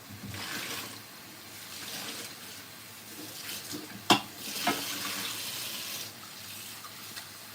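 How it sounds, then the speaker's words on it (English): Tap water runs steadily over fingers at a sink, a continuous close splashing hiss with brief louder splashes as the hands move under the stream, no talking. "now I'm gonna wash them too"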